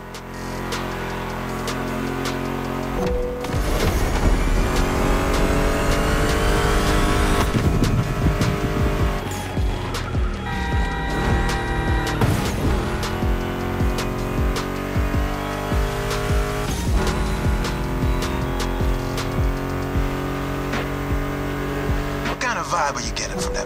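A roaring Mustang GT muscle-car engine in the video game The Crew Motorfest, revving and shifting through gears over loud rock guitar music, with tire squeals and racing sounds throughout.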